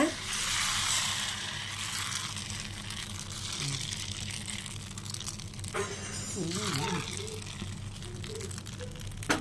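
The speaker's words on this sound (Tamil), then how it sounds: "ஒரு கரண்டி மாவு எடுத்துக்கோங்க. எடுத்து ஊற்றி ஒரு துணியை வச்சுட்டு நல்லா இதை வந்துட்டு சுற்றி விட்டுருங்க" Ladle of appam batter poured into a pan and swirled around, a soft sizzle and wet liquid wash running steadily throughout, with a brief voice-like tonal sound partway through.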